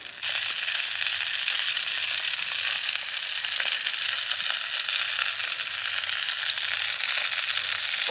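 Donohue Quality Meats sausages frying in oil in a pan, a loud, steady, close crackling sizzle that begins abruptly and continues unbroken throughout.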